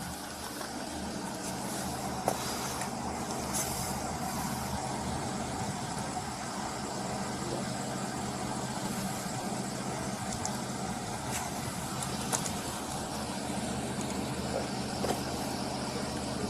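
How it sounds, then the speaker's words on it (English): A truck engine idles and rumbles at a steady low level, heard through playback with a boxy, slightly distant quality, with faint clicks over the continuous drone. "He drives by in the truck and then gets out."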